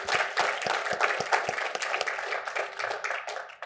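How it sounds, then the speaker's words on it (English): A small live audience applauds a special guest doctor, with close, distinct hand claps at first that blend into a steady round of clapping before fading slightly. "Please give a warm round of applause to our special guest, Ken Berry."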